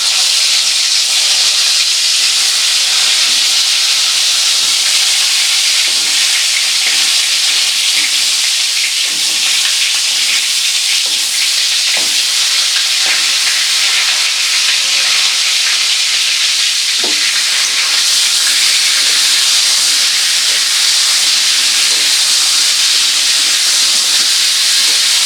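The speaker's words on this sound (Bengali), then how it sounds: "এবার কড়াইতে দিয়ে দেবো নুন হলুদ মাখিয়ে রাখা পটলগুলো।" Pointed gourd (potol) coated in salt and turmeric fries in a preheated wok, giving a loud, steady, dense sizzle that holds without pause throughout, with no voices over it.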